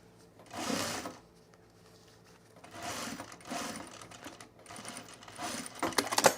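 A sewing machine stitches fabric in three bursts of rapid mechanical whirring, close and clear, separated by quiet pauses with faint clicks.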